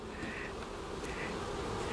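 Honey bees buzz steadily at the hive, a dense, continuous drone of many insects close by with no voices.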